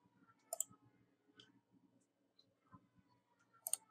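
A computer mouse gives several sharp, close clicks, single and double, spaced irregularly against a quiet background.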